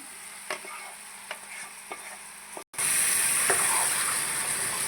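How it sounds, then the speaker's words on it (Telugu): Marinated mushrooms tipped into tomato frying in a pan for a mushroom dahi curry, with a few soft stirring clicks, then a sudden steady loud sizzle and hiss as they hit the hot oil, continuing close and unbroken. "మనం ముందుగా మ్యారినేట్ చేసి పెట్టుకున్నటువంటి పుట్టగొడుగులు వేసేస్తున్నాను"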